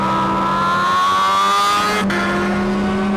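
Motorbike accelerating hard, its exhaust note rising steadily as revs climb, then a brief shift-like break before pulling on, loud and continuous with no talk.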